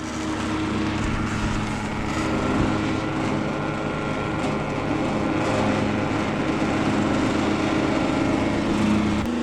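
A propane garage furnace runs with its burner and fan going, a steady, loud mechanical roar and hum with a rough engine-like rumble that holds level throughout.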